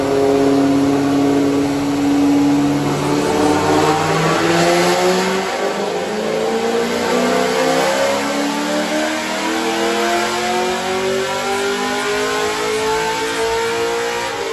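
Cammed Corvette C6 Z06 rolling slowly at walking pace on a gravel road, its loud, lumpy V8 burbling steadily close by with the pitch drifting gently up and down, alone without voices.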